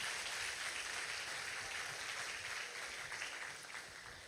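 Sustained applause from a church congregation during a communion service, a broad steady wash of clapping that holds for several seconds and eases slightly toward the end.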